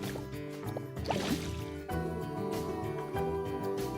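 Water pours and gurgles steadily into a dug hole to form a waterfall in the video game Planet Coaster, a continuous liquid fill over layered background game music.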